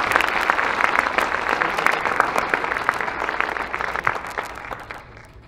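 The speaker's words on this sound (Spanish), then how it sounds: "Un aplauso para Carlos Mario." An audience applauds at a school writing workshop's closing ceremony, dense steady clapping from a crowd that fades slightly toward the end.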